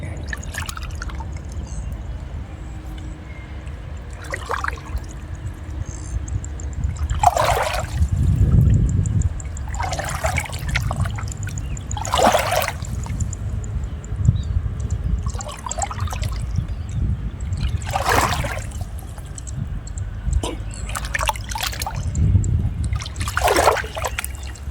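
Water splashes and trickles in repeated bursts onto soil around young shallot plants, each spray lasting a second or two, with quiet pauses between them, close and fairly loud.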